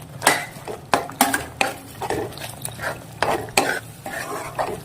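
Peanut bhajiya being stirred in a cooking pan while making a Patan-style Gujarati recipe, heard as a run of sharp scraping and clinking strokes at an uneven pace, close by and fairly loud, with faint sizzling underneath.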